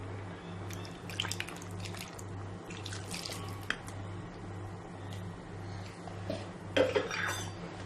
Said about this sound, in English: Now I am going to add little more water, washing the mixer jar.